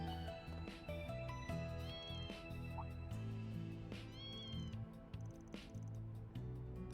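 Cats meowing inside the video game Trails through Daybreak II, a few short, separate mews over a steady bed of game music, nearby and moderately clear, with no one talking.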